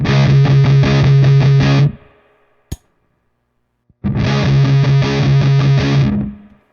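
Two loud bursts of buzzy electric guitar chugging through a Black Arts Toneworks Pharaoh fuzz pedal in germanium mode, separated by a short silence with a faint click, the second burst ringing out at the end.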